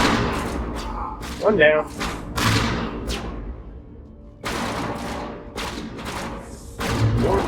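Bursts of gunfire in a Mass Effect 1 firefight, a few loud thudding shots spread through the clip while a voice speaks briefly over the action.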